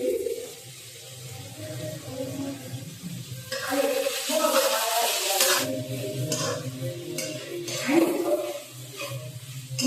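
Capsicum and onion being stir-fried for Chinese noodles in a home kitchen, with a soft sizzle and spatula scraping that grows louder partway through. Someone talks quietly over the cooking.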